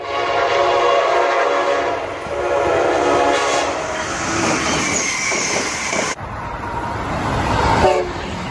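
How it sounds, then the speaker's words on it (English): A Nathan K5LA air horn on an Amtrak electric locomotive blasts in loud, sustained chord-like tones with a brief break, alongside the rumble and clatter of the moving train. "This came equipped with a Nathan K5LA air horn that sounded like the ACS-64 used on Amtrak service"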